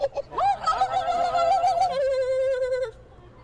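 A person imitates a turkey, letting out a close, loud, warbling vocal call held for about three seconds that quavers in pitch and then fades out.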